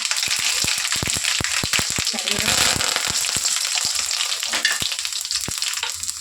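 Mustard seeds and cumin sizzle and crackle in hot oil in a pan, with dense popping and sharp spattering bursts over a loud, continuous frying hiss.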